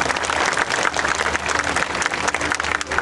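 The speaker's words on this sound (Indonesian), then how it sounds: "Kita beri tepuk tangan buat Tuhan." A large congregation at a church revival service in a sports hall claps for God, continuous dense applause with a steady hum underneath, loud and sustained.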